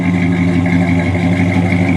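A 1965 Chevrolet Impala SS V8 runs steadily through dual welded mufflers, giving a loud, even exhaust drone with a low rumble and no voices over it.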